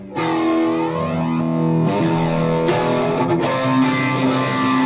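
Electric guitar chords played through a chorus effect placed before the distortion, in a multi-effects unit, shimmering into heavy distortion, sustained and loud, with new strums landing every second or so.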